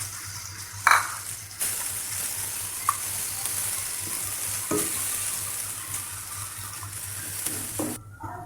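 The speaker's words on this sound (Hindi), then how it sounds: "जब अदरक लहसुन थोड़ा सा भून जाएगा" Ginger garlic paste sizzles and spits in hot ghee, with a few clinks and stirring scrapes over a steady frying hiss.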